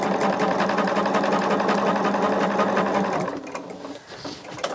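A sewing machine runs fast and steadily, stitching quilt sashing pieces, then stops after about three seconds, leaving soft handling sounds.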